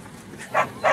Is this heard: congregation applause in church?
no